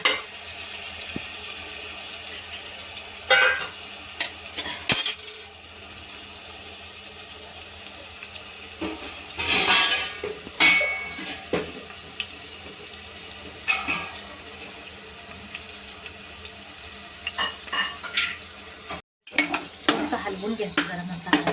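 Brinjal and masala frying in hot oil in a pan, with scattered clanks and scrapes of stirring over a soft sizzle, intermittent bursts across the span, and faint background voice at times.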